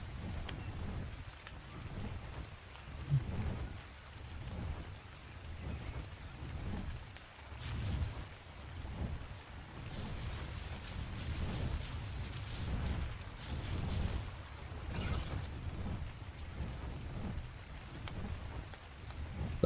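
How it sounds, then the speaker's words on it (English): Rain falling in the video game Ark Survival Evolved, a soft steady low wash with faint rumbling swells, fairly quiet and continuous with no voices. "Yeah, it is kind of raining."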